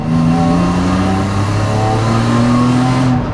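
A naturally aspirated drift car's engine revs loudly and steadily nearby, its deep exhaust note droning with a smooth rising and falling pitch throughout.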